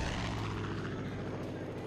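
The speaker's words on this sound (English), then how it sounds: "Oh, it's a friendly plane." Propeller plane in the video game Far Cry 5 drones overhead, a steady low engine hum with a buzzing texture, fairly faint and continuous, with a voice murmuring faintly underneath.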